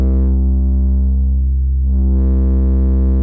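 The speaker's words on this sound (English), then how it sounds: "So really that's what distortion would sound like. You're really distorting the signal there." A sustained, buzzy tone runs through the Soundtoys Decapitator distortion plugin with punish mode on. It sounds loud and harmonically thick, and its bright top dips and returns midway, with no voices.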